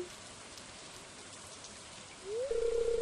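Steady soft rain patters in the Stardew Valley video game, a constant gentle hiss filling the whole stretch, joined near the end by a rising electronic tone that settles into a held note.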